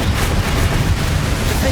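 A Bombarda blasting spell detonates in Hogwarts Legacy, a loud, dense, rumbling roar that fills the whole short moment without a break.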